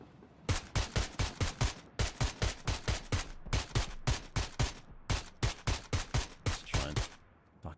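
Rapid bursts of automatic gunfire from an enemy player in the console battle royale game PUBG, loud sharp shots in quick rhythmic volleys with brief pauses, alone without talk.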